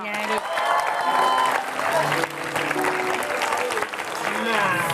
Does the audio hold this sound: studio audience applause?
yes